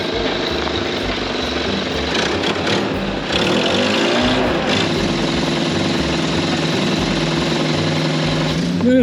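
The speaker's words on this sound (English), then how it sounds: "The old Earnhardt Jr. forklift." An old forklift engine running steadily in a shop, a loud, continuous droning rumble with a slight rise in intensity partway through, voices faintly underneath.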